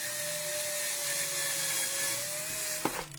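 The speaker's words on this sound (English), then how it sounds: "drill into this" A steady, high-pitched power drill whine drilling into paper flower materials runs for about three seconds, then ends with a sharp clack.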